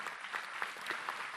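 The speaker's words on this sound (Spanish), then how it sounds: "Recibámoslo con un fuerte aplauso," Brief, fairly faint burst of audience applause at a church missionary conference, welcoming a speaker to the stage, with a few distinct claps standing out in the wash.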